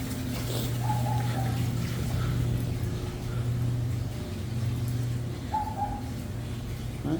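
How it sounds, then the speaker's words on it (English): A Ridgid K60 sectional drain machine feeds 7/8-inch cable through a 3-inch drain line, giving a steady, loud, low motor drone that dips briefly twice, with faint squeaks above it. "We're going to snake this line with the K60. We got the 7/8 cable."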